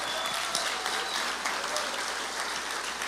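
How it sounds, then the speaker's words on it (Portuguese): An audience at a birthday gathering claps steadily for a few seconds, dense applause at moderate distance with no other sounds standing out. "vamos aplaudir ao Senhor pela vida do Gabriel."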